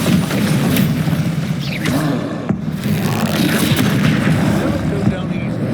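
Bombarda blasting spell explosions in Hogwarts Legacy, dense booming impacts and thuds under continuous spell effects and game noise, loud and close, with voices shouting over them.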